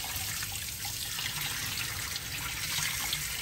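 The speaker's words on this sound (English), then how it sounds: "Swirl it around under running water, get that cloudy water out of there." White rice being rinsed and swirled under a running kitchen tap, a steady close trickle and splash of water filling a pot continuously with no talking.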